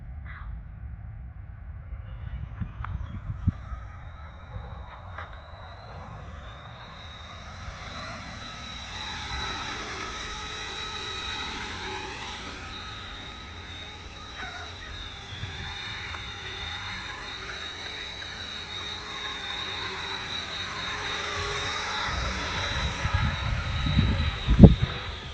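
A radio-controlled model helicopter flies outdoors in strong, gusty wind, giving a steady high-pitched rotor whine that holds throughout over a low, rumbling wind background, louder toward the end.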